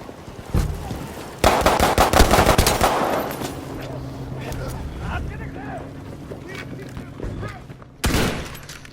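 Rapid bursts of automatic gunfire crackle through a firefight in the video game Battlefield V, with heavy volleys early on, a quieter stretch, then another loud burst near the end, and a voice talking in between.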